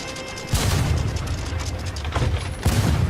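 Ship cannons fire a broadside in a pirate video game, a continuous rumbling barrage with heavy booms at the start and end, loud and dense.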